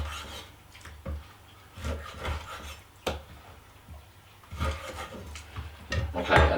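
A knife cuts a large snapper fillet into portions on a board, making intermittent close slicing and rasping strokes with soft thuds as pieces are set down, and no talking.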